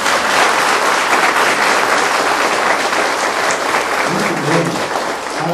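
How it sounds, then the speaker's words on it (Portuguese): Congregation applauding during a Catholic mass, steady, dense clapping filling the church from start to finish, loud and sustained without talk over it. "Vamos dar uma salva de palmas."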